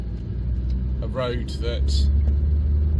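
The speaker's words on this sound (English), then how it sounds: "It's got quite a nice exhaust note actually." A 1997 Renault Mégane Coupé 1.6e Fidji drives along a bumpy road, its exhaust and engine making a steady low rumble, with someone talking briefly over it.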